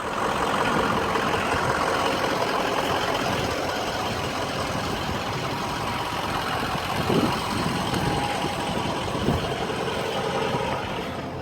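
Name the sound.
2004 truck with 6.0 liter engine idling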